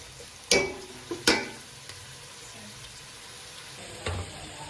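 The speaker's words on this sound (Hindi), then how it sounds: "अब हम इसको गोल्डन ब्राउन होने तक इसी तरह चम्मच हिलाते रहेंगे।" A spoon stirs onions frying in a pan until golden brown, giving a few sharp scraping clinks over a quiet, steady background sizzle with no talk.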